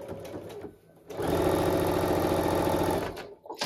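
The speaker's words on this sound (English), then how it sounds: "I'm going to sew a 1/4-inch all the way around the perimeter of this set." Sewing machine stitching a quarter-inch seam around the perimeter of a quilt top made from charm squares, a steady rapid needle run of about two seconds, close and loud, with brief handling noises before and after.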